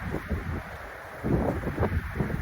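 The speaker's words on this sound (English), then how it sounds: "you're just going to hear the harsh wind sound against the microphone" Wind gusting through pine trees outdoors and buffeting the microphone, a steady rough low rumble that swells louder partway through, with no voices.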